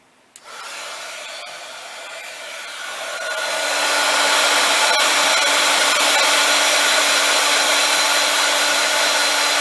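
A heat embossing tool blows hot air over embossing powder on a handmade sympathy card, starting with a click and a soft whir, then swelling into a loud, steady fan-like roar.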